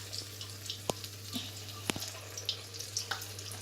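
A spicy omelette egg mixture sizzles faintly in a frying pan, a steady soft crackle broken by a few sharp clicks and small pops, with a low hum underneath and no talking.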